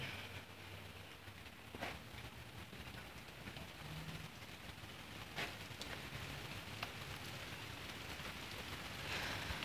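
Steady pouring rain falls throughout, a dense hiss of drops with a few louder spatters and brief bumps, moderately close and without any voices.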